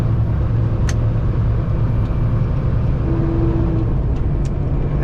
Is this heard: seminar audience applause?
no